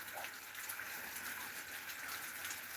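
Steady rain pours outdoors in a thunderstorm, a continuous hiss of falling water and splashing drops, moderately faint and unbroken, with no voices over it.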